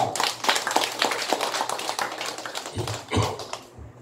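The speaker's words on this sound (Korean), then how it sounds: "박수나 한번 쳐라" An audience claps at a Buddhist temple dharma talk in Busan, a scattered, uneven patter of hands that thins out and trails off near the end.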